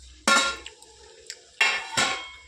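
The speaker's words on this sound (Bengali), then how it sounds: "খোল দিয়ে দিলাম কড়াইতে" Oilcake for fishing bait tossed and stirred in a metal wok over a low flame, four sharp scraping clanks with short gaps between them, close and without talk.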